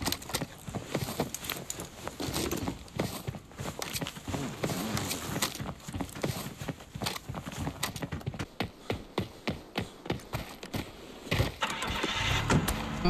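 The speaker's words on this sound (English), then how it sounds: "Oh, he has a car, nice." A car engine in the video game Arena Breakout, a continuous revving drone with rapid clattering and thumping transients, moderately loud throughout.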